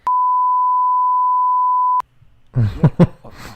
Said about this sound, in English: Can you beep that out?